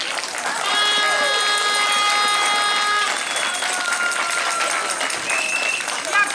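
A crowd at a protest in Żagań, Poland, claps and cheers steadily for several seconds, a dense wash of applause with a few voices and a bleating-like call rising above it.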